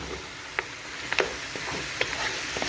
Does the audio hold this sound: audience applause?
no